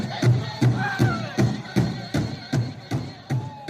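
Traditional Wampanoag native music with a steady repeated drum-like beat about every 0.4 seconds under chanting voices, a moderately loud rhythmic pulse that runs throughout.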